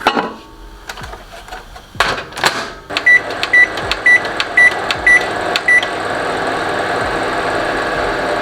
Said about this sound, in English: The soup is now in the microwave